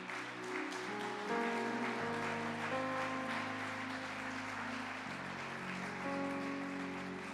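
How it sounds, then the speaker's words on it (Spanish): Congregation applauding in a church service, a sustained dense wash of clapping lasting several seconds under steady music-like tones. "Deme el aplauso al Espíritu Santo."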